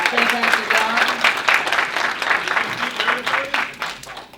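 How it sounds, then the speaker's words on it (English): A convention audience at Pensacon 2016 claps for a panel of podcasters, dense steady applause filling the room with voices and cheers rising over it throughout. "Can we get a round of applause for them?"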